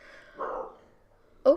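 A pet dog gives two short barks indoors, a muffled first and a sharper second, with a voice briefly murmuring nearby.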